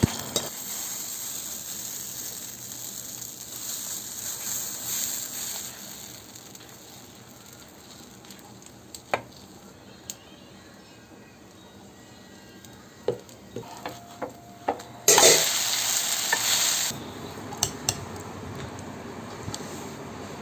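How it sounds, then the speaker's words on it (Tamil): A tadka for tomato chutney crackles in a pan. The clip opens with a soft, steady hiss, and one loud, bright sizzle burst cuts in near the end, probably as it is poured over. Scattered clinks and pops surround it, with no talking. "சட்னி அரைச்சாச்சுங்க. தாளித்து அதில் போட்டுடலாங்க"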